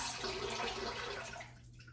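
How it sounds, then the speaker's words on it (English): Soaked almonds being strained, with their soaking water pouring out in a steady rushing splash that tapers off toward the end. "here we're simply going to strain the almonds"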